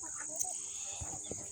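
Backyard chickens cluck softly a few times at a distance, faint against a steady high insect-like drone, with a couple of low thumps.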